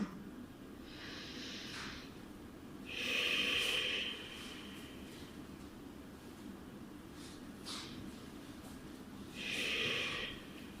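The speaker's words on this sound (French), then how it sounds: "vous pouvez commencer à mettre en place un Ujjayi tout doux, un petit son d'océan dans la gorge" Gentle Ujjayi yoga breathing with a soft ocean-like hiss in the throat, two slow airy breaths spaced several seconds apart, quiet and close, with no talking.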